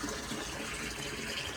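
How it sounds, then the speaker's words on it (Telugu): Water pouring steadily from a tap, a continuous rushing gush heard close and alone for a moment with no talk. "నేను వాటర్ పడుతున్నా,"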